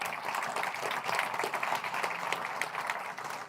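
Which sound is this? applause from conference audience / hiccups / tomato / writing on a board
applause from conference audience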